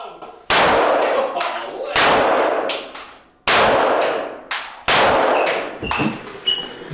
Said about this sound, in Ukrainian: Хто б міг подумати, що стрілянина всередині така гучна